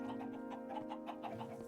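Minecraft chickens cluck in short, repeated bursts throughout, moderately quiet against a steady game background hum.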